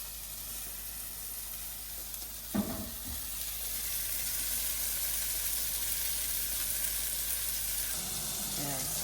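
Cod fillet frying in a hot pan for a buttery cod dish, a steady close sizzle throughout with a brief clatter near the start and soft handling noises later.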